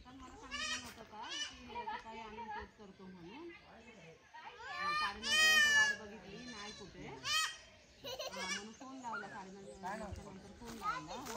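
A goat given to the family bleats in short, wavering cries amid lively chatter and children's excited voices close by on a family farm visit.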